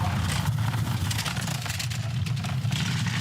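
Four-man bobsleigh rumbling down the St. Moritz ice track, a continuous heavy low roar with rattling scrapes and wind buffeting, loud and close throughout, no talking.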